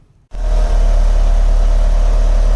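Mitsubishi Lancer Evolution GT-A fitted with a Monster Sport turbo intake starts up after silence, cranking into a loud, close, steady idle with a deep low rumble and a faint whir.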